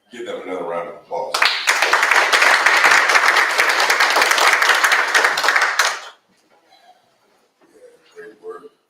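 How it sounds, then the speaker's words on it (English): Audience at a NAACP branch outreach event breaks into loud, dense clapping for about five seconds after a brief voice, then the applause stops abruptly and quiet talk resumes. "Give them another round of applause."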